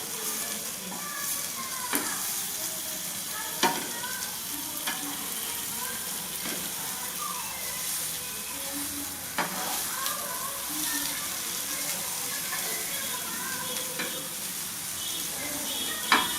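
Koduva fish (barramundi) fries in hot oil with a dense, constant sizzle and crackle, while occasional scraping and clinking sounds mark the fillets being turned in the pan.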